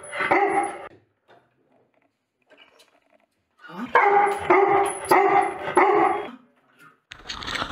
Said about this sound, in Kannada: ಅಲ್ಲಿ ಯಾವ್ದೋ ನಾಯಿ ಬಂದು ಬೊಗಳ್ತಾ ಇದೆ ಡೋರ್ ಹತ್ರ